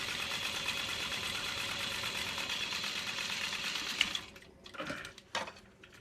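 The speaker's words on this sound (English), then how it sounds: "we're gonna sew on top of the vinyl" Sewing machine top-stitching through vinyl: a steady fast mechanical whir for about four seconds, then stopping, followed by brief handling clicks and thumps.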